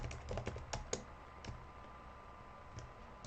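Fingers type quickly on a computer keyboard, a dense run of close clicking keystrokes in the first second followed by a few scattered taps against a quiet room hum.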